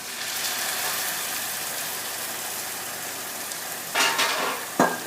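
Steady hiss of white wine sizzling in a hot pan while making chicken breast with risotto, with a couple of brief clinks or stirring scrapes near the end.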